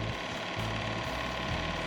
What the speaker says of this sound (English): There's a shutter which fires the shutter in the camera and pulls the film through.